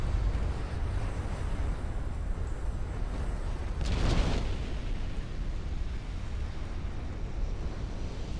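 A naval ammunition detonation in an Ultimate Admiral: Dreadnoughts destroyer battle: a single heavy blast bursts out about midway over a constant low rumble of wind and sea noise.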